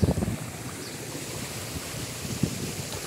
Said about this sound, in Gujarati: જો પાણી જાય છે